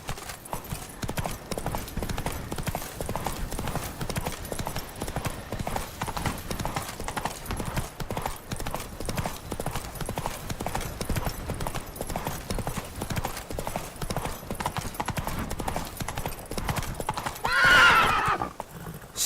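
A horse gallops in The Witcher 3: Wild Hunt, with a continuous rapid clip-clop of hooves throughout and a whinny near the end, close and fairly loud.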